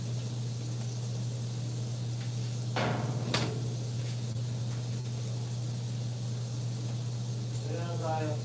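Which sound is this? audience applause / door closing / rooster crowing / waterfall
door closing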